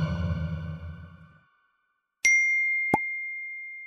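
A phone notification ping: two short, bright electronic tones, the first ringing out with a long sustained tail and the second a quick tap, heard alone after talk fades into silence.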